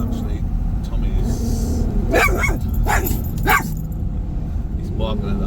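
A dog barks three or four times at a large backhoe, sharp yaps over a steady engine and traffic rumble, moderately close.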